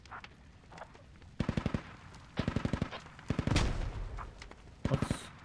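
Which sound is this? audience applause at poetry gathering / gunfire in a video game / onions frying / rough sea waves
gunfire in a video game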